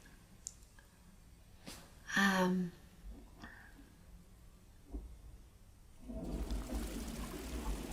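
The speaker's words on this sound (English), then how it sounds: "why does the bathroom always flush when I've got something really, you know, poignant to say?" A bathroom toilet flushes after a few small clicks and a brief clatter, the rushing water rising in the last couple of seconds and continuing steadily, fairly quiet and close.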